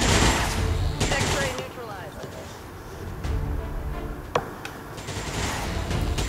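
Shotgun blasts in XCOM 2, a heavy burst of fire at the start and a sharp single crack later, with people talking throughout.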